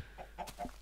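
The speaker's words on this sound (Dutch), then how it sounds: "We moeten die kip hebben, dood die kip niet." Chicken in the Minecraft video game clucking in three short, soft calls spaced evenly over under a second, faint and alone against quiet background hiss.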